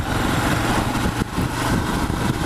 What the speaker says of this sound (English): feels like it's got that lazy, long stroke, engine will go forever kind of sound and feel to it